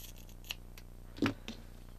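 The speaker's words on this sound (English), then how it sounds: "I'm going to cut these 2 strands" A few quiet snips of scissors cutting two strands of yarn, with one sharper cut near the middle, against a steady low room hum.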